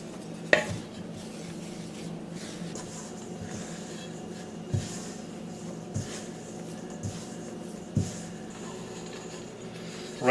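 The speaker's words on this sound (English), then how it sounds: "now we're just going to mix that up really good" Rhubarb crisp ingredients being stirred in a dish, with soft scraping and occasional light clinks of a utensil against the bowl, quiet and steady with no talking.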